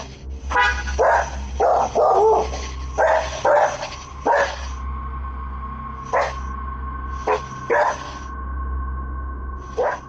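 Several dogs bark in short bursts, some doubled, at a yard at night, moderately close, with a steady electronic hum and tone running underneath.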